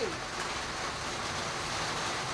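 Heavy rain coming down over a match ground in Nalbari, a continuous dense wash of noise at moderate level, steady from start to finish with no voices.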